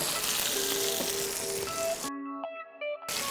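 A tomahawk steak sears in a hot pan, giving a steady, close sizzle with some soft clinks and pan noise and a short break in the middle.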